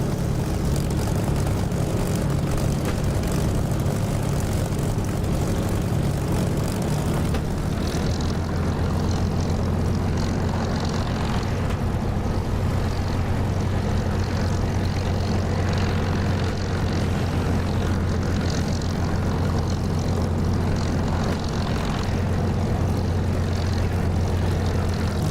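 A Spitfire's propeller engine in the DCS flight simulator drones loudly and steadily during takeoff, with a shift in tone partway through as power and speed build, and no talking over it.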